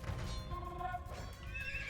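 Paladin cavalry horses in the video game Age of Empires 2 let out a clear whinny over a bed of hoof clip-clop and faint game ambience, fairly quiet.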